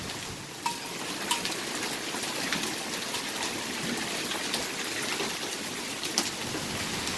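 Quarter-sized hail falls at night in a steady dense patter, with scattered sharper individual impacts popping out of the continuous hiss, fairly faint and without voices.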